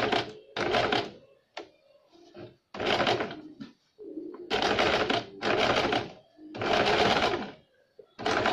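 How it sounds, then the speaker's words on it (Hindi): A sewing machine stitching pinned fabric for a back-neck design runs in repeated loud bursts separated by short pauses, with clunks as the work is repositioned. "अब हम यहाँ से सिलाई देंगे सब जगह।"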